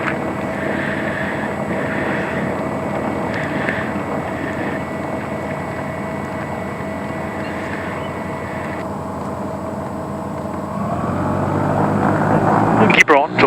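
A twin-engine Tecnam P2006T runs at full power on its takeoff roll, a steady, loud, droning engine roar mixed with wind noise that swells toward the end.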